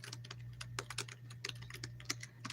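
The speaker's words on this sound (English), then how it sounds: "I'm typing that response in there right now." Fast, uneven keystrokes on a computer keyboard clatter close by in a steady run, over a constant low electrical hum, with no voices.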